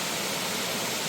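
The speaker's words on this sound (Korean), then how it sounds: "이 다리에서 보는 폭포가 참 멋있습니다." Seonnyeo waterfall near Hwanseon cave in Samcheok's Deokhangsan, fed by heavy outflow from the cave, pours as a steady, dense broadband roar throughout, with no talk over it.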